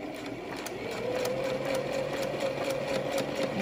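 Sewing machine stitching a quarter-inch seam on a cable-tie reinforced fabric face mask, a fast, even mechanical whir running steadily, close and moderately loud.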